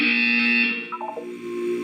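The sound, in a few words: buzzer in video game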